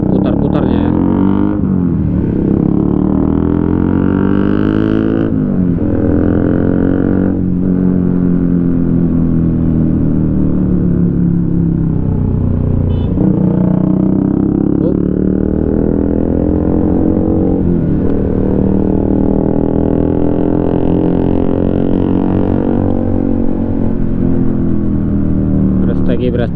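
A motorcycle engine revs repeatedly while riding along a road, rising and falling in pitch close to the microphone, with voices talking over it.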